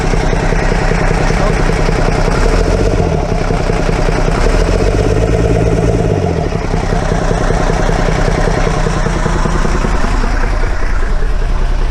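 An engine with a fuel leak idles in a steady, loud, low rumble that keeps an even throb throughout.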